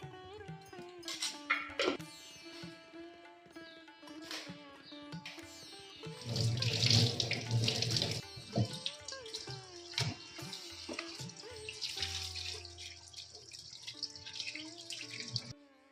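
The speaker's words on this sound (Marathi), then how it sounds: "तर केळी अशा धुवून घ्यायच्या" Raw bananas are washed under running tap water, a faint trickle and splash with drips and handling clatter, growing into a fuller splashing burst midway before settling back to quieter rinsing.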